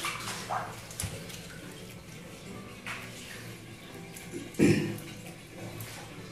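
Water drains from a Midea 10kg twin tub washing machine with a steady low rushing and gurgling flow, broken by a few splashy bursts, fairly close and moderately loud.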